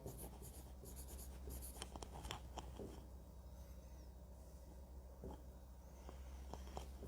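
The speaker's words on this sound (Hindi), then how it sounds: "मैं लिखता हूं" Handwriting on paper during a physics lesson comes through as faint, close scratches and taps in irregular short strokes over a low steady room hum, with quiet pauses between bursts.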